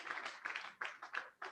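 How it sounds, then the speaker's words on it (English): Faint, sparse applause at a digital humanities lecture, a few hands clapping in loose uneven bursts. "let's give him another round of applause"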